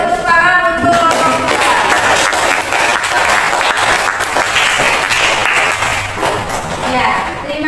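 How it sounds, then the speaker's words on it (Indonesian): Classroom applause for a student group after its presentation, dense clapping from many hands lasting several seconds in a small indoor space. "beri tepuk tangan untuk kelompok"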